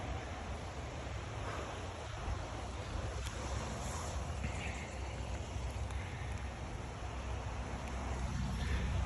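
Heavy rain pouring outside a house under construction in September, a steady dense hiss of falling water with a windy rush, constant and loud throughout.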